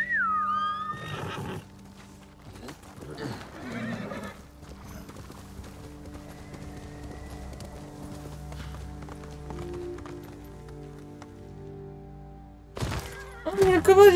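In Ghost of Tsushima, a horse neighs near the start and hooves clip-clop in the background, with game sounds around them. A louder burst of noise comes at the end.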